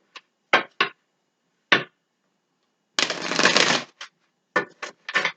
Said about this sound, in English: I'm going to go ahead and give this a couple shuffles.